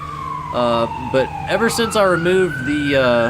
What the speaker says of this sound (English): sorry about the sirens there